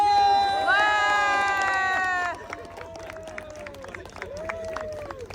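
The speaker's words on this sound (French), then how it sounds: "applaudissements mes amis, pour le gagnant de ce concours" At a circus-themed Halloween haunted house show in an amusement park, a crowd shouts and cheers loudly for a contest winner, then settles into a lower babble of voices and scattered noise.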